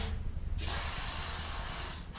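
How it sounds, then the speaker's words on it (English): An aerosol can of lubricant sprays onto a sliding pocket door track in one sustained hissing burst after a short pause, close and fairly quiet. "we're just going to give it a quick spray with some lubricant"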